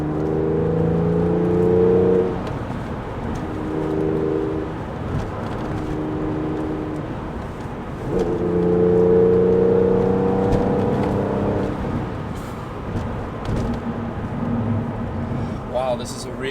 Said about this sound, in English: Let's just rev it out a little bit. Up at the third. Oh, that flat 6.